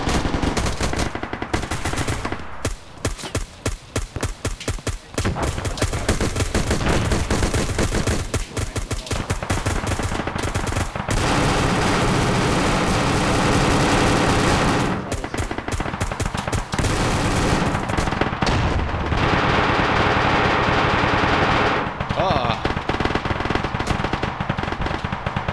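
Gunfire in a military video game operation: dense, loud bursts of rapid automatic fire and clustered shots pound almost continuously, with brief lulls between volleys.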